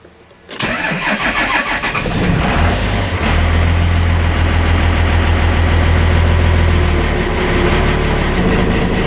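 A 1983 truck engine cranks and catches after a brief silence, then settles into a loud, steady, unusually low idle that runs close and uninterrupted to the end.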